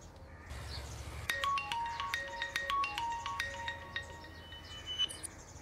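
A phone rings during a call with a bright, repeating electronic melody of short tones that starts after a moment and continues over faint background noise.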